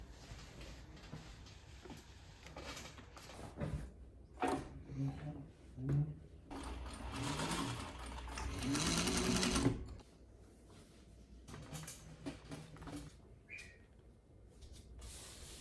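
A sewing machine stitches a stretchy skirt onto a bodice in short bursts, then a longer steady whirring run, close up with someone talking between and over the stitching.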